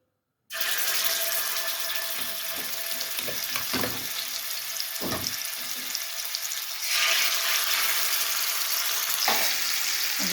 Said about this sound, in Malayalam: പാത്രം ചൂടായാലോട്ട് ചിക്കൻ ഇട്ട് കൊടുക്കുക.